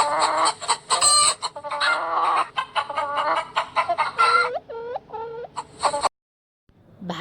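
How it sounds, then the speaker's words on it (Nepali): A hen clucks near and loud in a busy run of short repeated calls, with a few rising squawks toward the end, then a brief pause before another call. "कुखुरी अथवा पोथी चरो"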